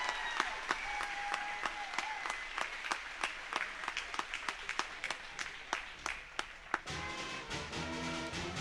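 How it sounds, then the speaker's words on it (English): A basketball gym crowd gives sustained applause honoring the 1999-2000 third-place Albany girls team. Dense clapping runs throughout with sharp individual claps popping out, before thinning and giving way to other sound near the end. "Let's give the team one more round of applause."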